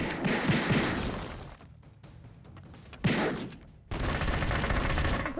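Bursts of rapid gunfire in the side-scrolling action game Broforce, loud dense volleys that drop away for a moment and then come back hard.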